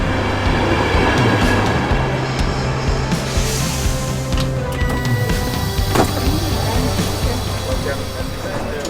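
A train ride toward Vienna airport: a steady rumbling hum of the carriage fills the whole stretch, with low rolling tones, occasional squeaks and clunks, and faint background murmur.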